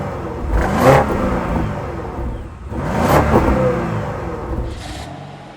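A 2024 BMW X5 engine revving twice in separate swells, each rising and falling, with a brief faint high sound near the end, fairly loud and close with no talking.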